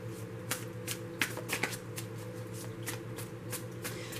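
Tarot cards being shuffled for a love reading, a steady run of soft riffling flicks and crisp snaps close by, with a low hum underneath and no talking.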